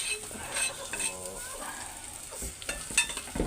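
Onion sizzles and fries in a pan with beef for a beef papaitan dish, with spatula scrapes and light clinks from stirring.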